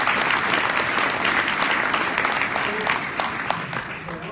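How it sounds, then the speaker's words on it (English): Audience applause for panelists closing a fintech panel on peer-to-peer lending, a full, steady wash of clapping that holds strong throughout, with a few sharper claps standing out near the end. "I want to give everybody a round of applause"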